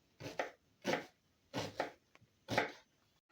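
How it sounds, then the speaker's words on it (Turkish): Four crisp knife chops through a dry onion on a cutting board, evenly spaced, close and clear with quiet pauses between. "Şimdi bir tane kuru soğanı doğruyoruz."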